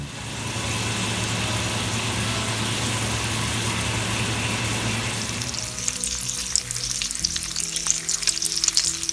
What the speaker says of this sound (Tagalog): preheating my pan na kasi magpa-fry tayo ng bacon